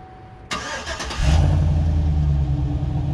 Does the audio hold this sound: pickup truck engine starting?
yes